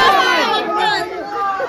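Festive crowd chatter fills a village palanquin procession for the Mariai goddess, a dense, steady babble of many voices and excited shouts close around, with no single voice standing out.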